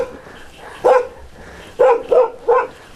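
A dog barks close by, four sharp barks in a quick irregular burst with one bark alone first and then three in fast succession, over a quiet background.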